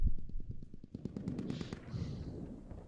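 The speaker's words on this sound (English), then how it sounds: "So many rifles shooting that techie!" Rapid rifle gunfire in the Squad video game, many weapons shooting at once in dense overlapping bursts, loud and close at first and then continuing as a steady crackle of shots with no talking.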